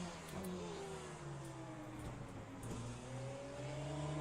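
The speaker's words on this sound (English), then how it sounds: "but that Ferrari took off." A Ferrari race car in the racing game Le Mans Ultimate accelerates hard, its engine note climbing steadily and loudly over several seconds with other car engines droning alongside, continuous and without talk.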